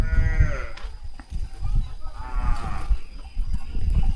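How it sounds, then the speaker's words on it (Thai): Village cattle and buffalo in rural Laos low out in a couple of drawn-out moos, close and fairly loud over rumbling outdoor background noise, with no speech. "นี่งัวควายสัตว์เลี้ยงเพิ่น"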